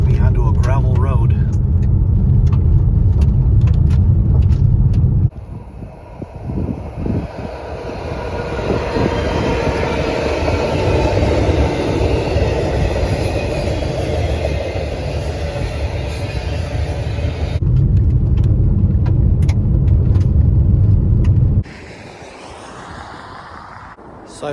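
A car rolls along a gravel road that branches off Route 38 on an original stretch of the Lincoln Highway near Malta, Illinois, giving a loud, steady rumble and crunch of tires on loose stones that shifts in tone between stretches.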